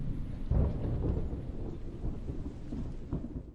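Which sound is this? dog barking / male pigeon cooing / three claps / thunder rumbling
thunder rumbling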